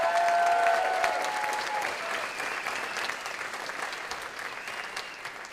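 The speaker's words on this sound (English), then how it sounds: "Let's hear it for Tom Leight" Audience applause at a local dance competition show, a full crowd clapping loudly at first and gradually tapering off, with a few scattered cheers and no talk.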